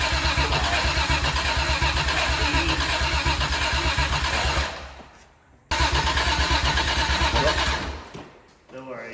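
A BMW E36 wagon cranks and fires up close by, loud and rough. It cuts out, then cranks and catches again.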